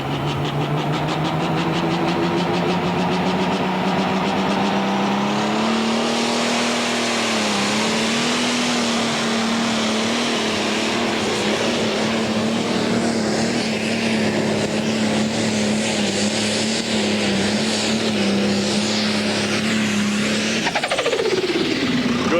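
A Pro Stock John Deere 4240 tractor with a 600 cubic inch engine roars loudly through a pulling run, its steady howling tone climbing early on, holding high, then dropping sharply near the end.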